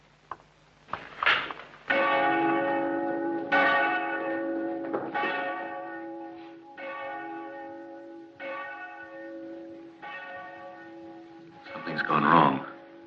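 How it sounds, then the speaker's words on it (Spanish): A church bell rings out in a period adventure scene, sounding a series of loud, resonant strokes spaced about a second or two apart, each with a long ringing decay, ending in a brief burst of commotion. "¡Tocad la campana!"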